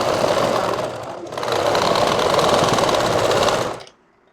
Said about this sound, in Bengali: মুড়ি সেলাইটা দিয়ে নেবেন